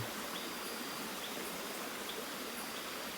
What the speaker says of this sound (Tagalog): Nandito lang kami sa gilid ng ilog.